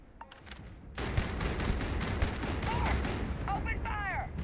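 Video game gunfire in Starfield: a dense burst of rapid shots and fusillade bursts after a brief quiet start, with a few clicks and whirring effects near the end.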